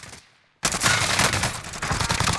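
Rapid automatic gunfire erupts suddenly after a brief quiet in a military shooter video game, with loud, dense bursts continuing to the end.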